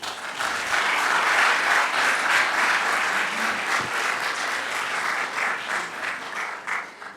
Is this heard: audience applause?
yes